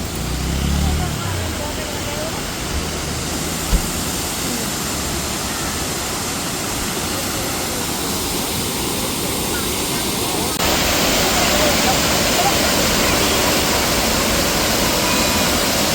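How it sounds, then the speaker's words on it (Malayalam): A waterfall near Munnar roars as a steady, loud broadband rush of falling water throughout, with a faint voice early on and the roar growing slightly louder later. "ഇതേണ്ടേ ഈ കാണുന്ന വെള്ളച്ചാട്ടം."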